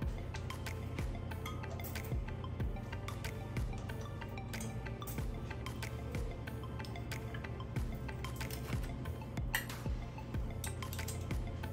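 A spoon stirs lemon drop cobbler mixture in a bowl, giving repeated light clinks and scrapes at an irregular quick rhythm, faint and close, with no talking.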